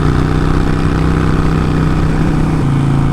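A Harley-Davidson Iron 1275 motorcycle engine rumbles loud and close while riding, a steady low drone with no break and no talk over it.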